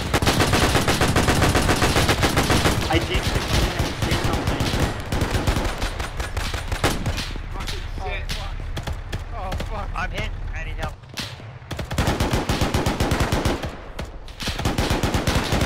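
Loud, rapid machine-gun bursts in a World War II battle in the game Arma 3, with sustained automatic fire, short pauses and rattling volleys, while voices speak over the combat.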